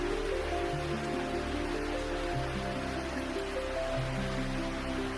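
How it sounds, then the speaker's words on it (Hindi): Steady rain hisses continuously as a dense wash of sound beneath soft, sustained meditation music drones, with no talking. "उन्हें इस बारिश के साथ बह जाने दीजिए।"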